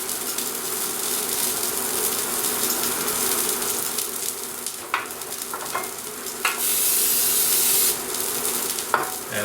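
An omelet sizzles steadily in a frying pan, a close, continuous crackle of hot fat with a few soft scraping taps.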